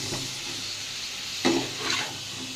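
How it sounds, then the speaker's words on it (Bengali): Vegetables stirred into a chicken stew in a pot, with a soft bubbling sizzle and a couple of brief scraping stirs against the pot, quiet and nearby. "এবারে এই সবজিগুলো দিয়ে দেব সাথে ভালো করে নাড়াচাড়া করে ঢেকে দিতে হবে"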